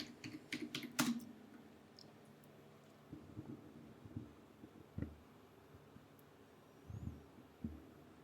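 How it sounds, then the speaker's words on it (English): A computer keyboard typing a command into a hacking practice machine: a quick cluster of key taps, then sparse scattered keystrokes with pauses between them, quiet and close. "Now I'll type in the next one, which is F Society."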